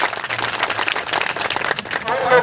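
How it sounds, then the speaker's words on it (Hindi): Applause from an audience at a Gandhi Jayanti event honouring sanitation workers, a dense, steady patter of clapping heard nearby, with faint voices beneath it. "जोरदार तालियों से इनका स्वागत कीजिए।"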